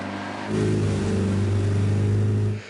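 An off-road vehicle's engine revs hard in two-wheel drive with the rear locker engaged on a rough track, a loud low roar that holds strong for a couple of seconds before dropping off.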